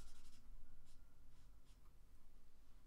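A marker drawing on paper during a sketch makes soft scratchy strokes in short repeated bursts. The sound is quiet and close against low background hum.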